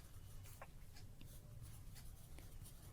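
Chalk or marker scratches out a word on a classroom board in short faint strokes, sitting over a steady low hum with no voices.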